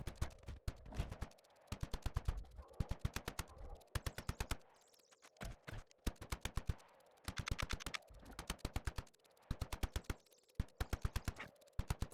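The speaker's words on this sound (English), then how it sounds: "Now all I have to do is shoot him till he dies." Gunfire in ARK hits a trapped Giga. Rapid bursts of automatic shots come in repeated volleys separated by short pauses, sharp and close, with a faint hum between bursts and no talking.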